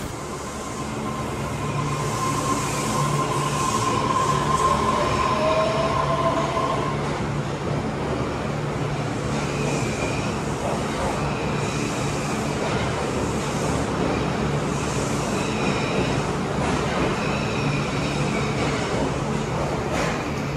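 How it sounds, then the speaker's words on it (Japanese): An automated Osaka Metro train rumbles steadily past at Cosmosquare station for about twenty seconds, a continuous rolling roar with a faint high whine early on and soft rhythmic rattles. "今可愛らしい電車が通過していたんですけどね"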